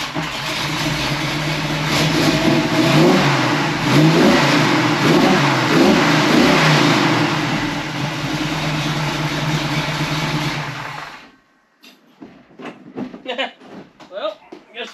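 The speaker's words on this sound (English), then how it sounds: "Hopefully it's just exhaust rattling around." A big block Chevy Nova engine revs hard with a loud, rattling exhaust, steady and close for about eleven seconds before cutting off, followed by faint clattering and a speaking voice.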